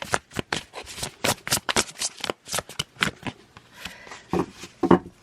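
Tarot cards being shuffled for a reading: a quick series of crisp riffling bursts and soft slaps, close and fairly loud, with no talking.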